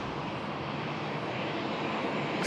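Airliner taking off from runway 16 right at Sydney Airport, a broad, steady roar of jet engines at full thrust, loud and sustained, heard alone without talking.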